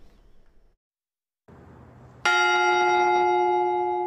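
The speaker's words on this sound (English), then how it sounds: "The ring of the bell is both a sound and a symbol." A memorial bell at the state capitol strikes once with a loud, ringing clang that sustains a bright metallic tone and slowly decays, following a brief quiet pause and low ambient murmur.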